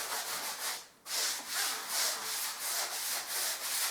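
Steady rhythmic rubbing of sealer into a hard plaster wall, about eight even strokes with a brief pause early on, close and fairly quiet.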